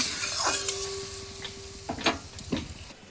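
Stirring a bean and potato curry after adding coriander powder in a pan, with soft scraping strokes under a steady sizzle and a few sharper clinks near the end.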